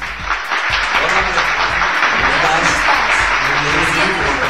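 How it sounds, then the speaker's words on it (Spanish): Applause from a studio audience at a university management show, broad and steady clapping filling the whole stretch at moderate loudness, with a voice or two faintly mixed in. "Un aplauso."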